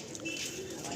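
Pigeons in a loft giving soft low coos, fairly quiet and brief against a faint background murmur, with people talking nearby.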